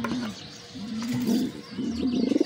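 Pigeons in a new flying loft coo softly in repeated low, throaty phrases, close by and fairly quiet, with faint background noise between calls.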